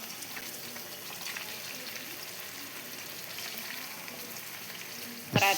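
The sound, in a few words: fish pieces frying in hot oil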